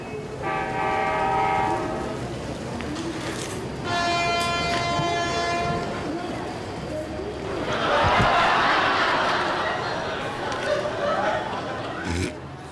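At a railway station a train sounds its horn in two long blasts, with rumbling carriages and a loud hissing rush in between, while people talk nearby.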